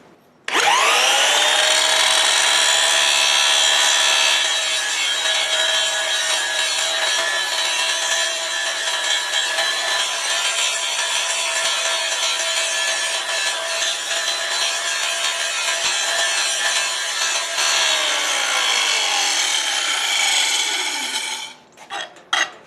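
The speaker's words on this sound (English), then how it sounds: "I'm going to grind on that some more, try to get this surface again flatter" An angle grinder spins up and grinds steadily on a rusty steel railroad-track section being flattened into an anvil, a loud, continuous abrasive whine lasting about twenty seconds before winding down with a couple of short final touches.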